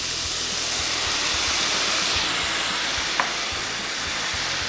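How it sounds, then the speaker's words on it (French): Armagnac poured into a hot pan to deglaze it while roasting a stuffed farm guinea fowl, giving a steady broad sizzle and steam hiss that holds at an even level throughout, with one brief click near the end. "On ne fait pas flamber, on déglace."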